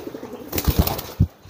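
A short burst of wing flaps from a young pigeon, a few quick soft beats close by, then quiet.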